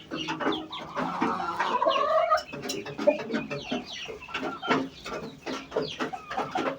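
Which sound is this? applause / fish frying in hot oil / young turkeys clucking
young turkeys clucking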